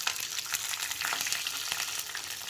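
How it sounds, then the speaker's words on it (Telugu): Four green chillies frying in oil in a pan, a steady bright sizzle that holds for the whole stretch with no voice over it. "నేను పచ్చిమిర్చి వేస్తానండి ఒక నాలుగు పచ్చిమిర్చి వేసుకుంటాను"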